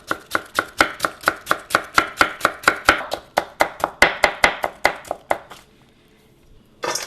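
A knife chops radish into matchsticks for kimchi on a cutting board, with a fast, even run of about two dozen crisp, close thuds, then a brief pause before one more chop.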